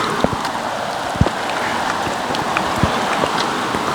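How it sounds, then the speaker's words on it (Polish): Steady rain hisses throughout at a campsite in Oravice, Slovakia, with a few sharper drops tapping close by over the continuous wash of falling water. "Cały czas pada."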